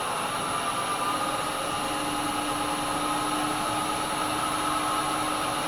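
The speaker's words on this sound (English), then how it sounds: "Right, my lathe's wobbling a little bit." A wood lathe spins a heavy resin bowl blank with a steady, continuous mechanical drone and whine, even in loudness throughout with no talk.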